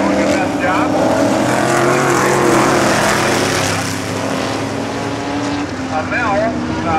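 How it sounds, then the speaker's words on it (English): Modified-division race cars roar past on the Glenridge dirt track during a night of racing, loud continuous engine drone with passing swells, while an announcer talks over it. "Charlie Schofield's going by, and now Blanchard's going to put a lap on Schofield"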